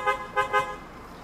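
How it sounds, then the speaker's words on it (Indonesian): An original Japanese car horn fitted to a Toyota Venturer sounds three short, loud honks in quick succession, close by, with a full, fairly deep tone and quiet afterward. "Klakson kita ganti pakai yang original dari Jepang."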